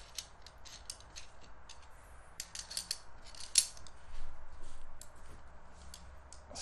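Metal clicks and sliding scrapes of a bolt going back into a Holek automatic rifle, a run of sharp, close mechanical clacks with a louder snap midway, no talking.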